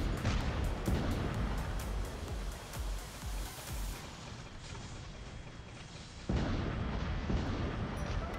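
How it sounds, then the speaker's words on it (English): Rockets from a flying robot strike targets in the War Robots Mk2 game, a continuous barrage of booming impacts and rumbling blasts, loud and dense, easing slightly midway before surging again. "Yep, the rockets are hitting."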